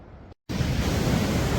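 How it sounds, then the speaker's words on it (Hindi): Rushing waterfalls along a mountain trek toward Rakaposhi Basecamp in Hunza, a broad steady roar of falling water that cuts out briefly, then returns loud and continuous. "ये ज़बरदस्त झरने हमारे रास्ते में आ रहे हैं।"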